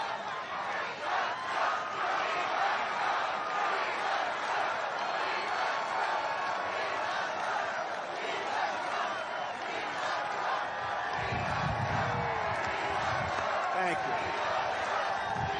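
A large crowd at a Trump rally in Michigan roars and cheers continuously, loud and sustained, with chanting swelling near the end and a speaker's voice heard over it.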